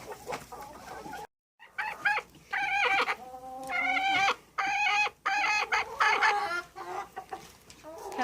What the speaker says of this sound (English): Yep, that's a rooster.